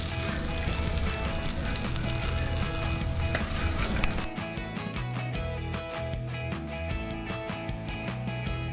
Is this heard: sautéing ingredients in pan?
yes